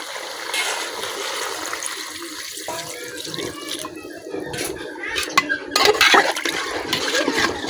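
Broth poured into a pot of meat and papaya curry, a continuous watery splashing and gurgling that swells louder toward the end, with faint clinks of a pot in the background.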